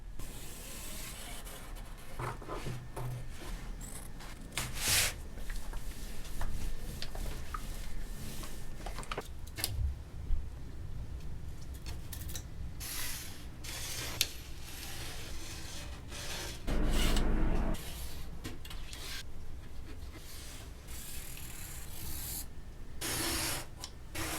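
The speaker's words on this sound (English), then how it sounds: "So let's go ahead and cut the vinyl." Shears cut through vinyl upholstery material for a 1971 Honda CT90 passenger seat cover, giving a steady run of soft, close rasping and crunching strokes with brief louder bursts and no talk.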